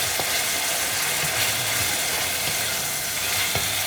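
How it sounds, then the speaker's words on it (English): Continuous sizzling of yellow noodles stir-frying in a hot pan, with occasional scraping and stirring clicks, close and steady throughout. "And keep frying it, saute it a little bit for about 2 minutes."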